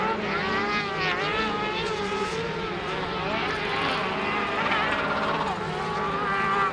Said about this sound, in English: The noise of rev limiters in the distance, how you know people are trying very, very hard in their cross cars